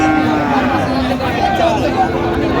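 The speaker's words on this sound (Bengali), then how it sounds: "ষাঁড় বাচ্চা ফ্রিজিয়ামের ষাঁড় বাচ্চা।" A Friesian bull calf at a busy cattle market gives a long, low, droning moo, heard close and steady under a background of crowd chatter and murmuring voices.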